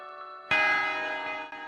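A single bright notification bell chime strikes suddenly after a faint lead-in and rings out with a shimmering, slowly decaying tone, followed by a soft second tap near the end.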